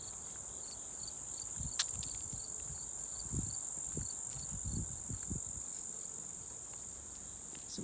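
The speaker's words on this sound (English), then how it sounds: "You can totally hear the crickets," Crickets chirp steadily on a nature trail, a continuous high trilling over faint crunching footsteps and occasional small knocks.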